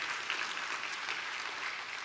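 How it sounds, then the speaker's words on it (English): Church congregation applauding a baptism, a continuous dense patter of many hands clapping, fairly quiet and heard on its own without talk. "Please applaud that."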